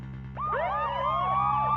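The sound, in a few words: police car sirens outside, from the video game Ace Attorney: Spirit of Justice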